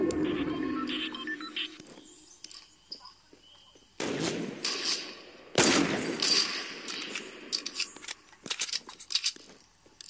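Bursts of gunfire from weapons in the video game Fortnite, sharp broadband blasts with a loud cluster around four and six seconds, set against ambient game sounds and quieter rattling shots.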